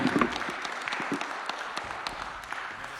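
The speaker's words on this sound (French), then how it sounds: "On peut l'applaudir." Conference attendees at an aviation-sector session applaud a speaker, an even wash of many hands clapping that holds steady across the moment.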